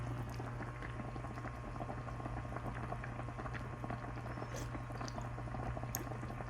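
A pot of food bubbles steadily on the stove in a home kitchen. The boil is soft, continuous and fairly faint, with a low hum underneath and no voices.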